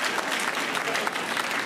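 A short burst of dense audience clapping at a comedy show, steady and fairly loud throughout, from a crowd of about twenty people.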